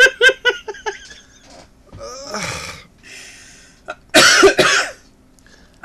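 A man's close coughing fit in a podcast setting: a quick run of sharp coughs, then harsh rasping throat-clearing and gasping bursts, with a loud final cough cluster near the end.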